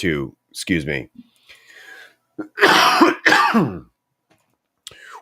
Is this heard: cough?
yes